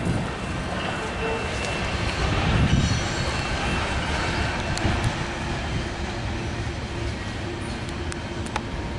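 A CN freight train led by locomotive 2247 rolls westbound through Battle Creek, Michigan, hauling many lumber cars, with a dense continuous rumble of wheels, faint squeals and rhythmic clacking from close by, and brief talk over it.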